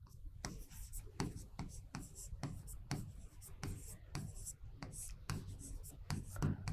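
Chalk or pen scratches out repeated short strokes during a Hindi-language class lesson, about a dozen quick scrapes in an uneven rhythm while a teacher speaks quietly over them.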